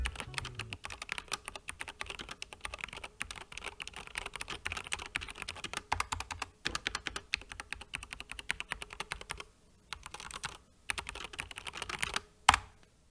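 Rapid, continuous clacking of a SteelSeries mechanical keyboard during a typing test, keystrokes tumbling fast and close, with a couple of brief pauses and a louder final key strike near the end.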